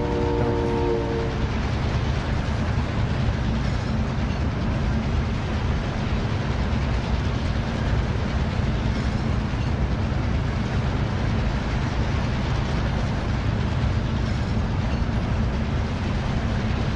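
An in-game train rumbles past in Call of Duty Plunder mode: a loud, continuous rolling roar with rail clatter and a brief horn at the start, steady throughout with no talking.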